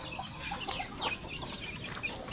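Native chickens and gamecocks kept on a farm in the Philippines, giving a few short clucks and calls over steady outdoor background noise, with no talking.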